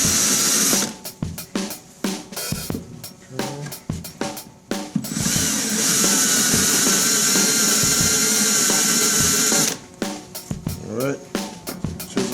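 A spot weld drill bites into the frame rail of a 1989 Foxbody Mustang, making close, shrill whining bursts that start and stop repeatedly, with a longer sustained grind in the middle.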